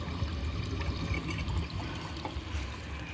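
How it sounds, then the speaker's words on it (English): Water poured into a toilet bowl being tested for a hard clog, a steady close trickling and splashing that runs unbroken for a few seconds. "I'm gonna add some water."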